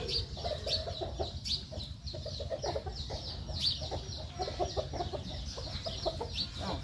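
Chickens clucking close by, repeated short clucks and squawks from several birds scattered over a low rumbling outdoor background, without clear speech.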